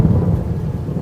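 Heavy village rain pours down with deep rolling thunder, a loud continuous low rumble and wash of rain with no voices.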